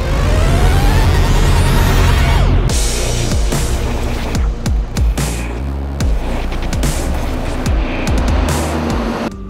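Lamera Cup race cars roar away from the start at Le Castellet, a loud, dense wall of engine noise with pitch sweeps as individual cars accelerate and pass close by.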